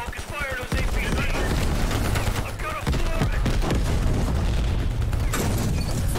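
Gunfire in a Cold War era campaign shooter game, rapid shots at the start followed by sustained heavy bursts and booming blasts, loud and continuous, with someone talking over it.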